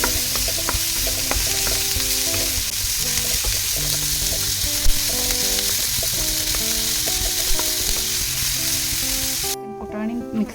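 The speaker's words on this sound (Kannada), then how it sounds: "ಆಮೇಲೆ ಇದು ಉಳ್ಳಾಗಡ್ಡಿ ಹೆಚ್ಕೊಂಡಿದ್ದು ಹಾಕೋಣಂತ. ಹಾಕಿ ಒಂದು ಸ್ವಲ್ಪ ತಾಳಿಸ್ಬೇಕು." Chopped onion and chillies fry and sizzle steadily in a hot pan in a home kitchen, a continuous close crackle with small clinks from stirring throughout and no talk.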